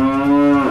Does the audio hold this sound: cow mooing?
yes